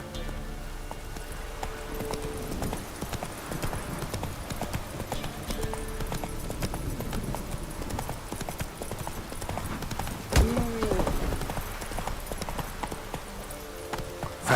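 Horse hooves clip-clop steadily through a galloping run in the video game The Witcher 3, a continuous rhythmic beat over game ambience, with a brief whinny-like burst near the end.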